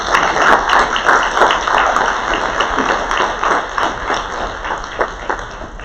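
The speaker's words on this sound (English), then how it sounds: "you deserve a round of applause" An audience at a youth employment program closing ceremony breaks into dense, continuous applause, many hands clapping at once in an even wash that holds steady throughout.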